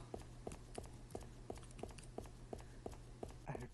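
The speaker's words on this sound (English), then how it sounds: "I heard footsteps." Steady, evenly spaced footsteps in a horror video game, about ten faint thuds at a walking pace over a low background hum.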